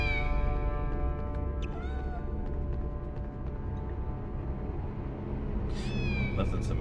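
A kitten in the Harry Potter and the Sorcerer's Stone video game gives a few faint, high meows over a dense, steady layer of game music and ambience, with a louder meow near the end.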